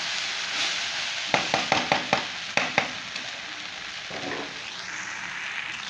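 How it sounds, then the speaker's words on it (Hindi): Okra (bhindi) frying with onions in a pan, a steady close sizzle broken by a quick series of sharp scraping stirs, then settling back to an even hiss. "इसको हम फ्राई कर रहे हैं।"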